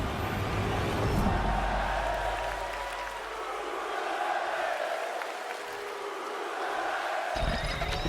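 A virtual arena crowd in WWE 2K25 roars and cheers at a SmackDown opening, a steady wash of noise throughout with a commentator's voice running over it.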